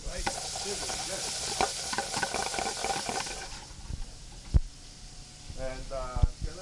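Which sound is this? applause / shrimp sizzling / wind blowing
shrimp sizzling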